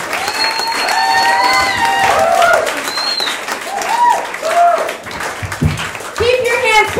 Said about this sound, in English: Keep your hands clapping, everybody, for Taylor Rogers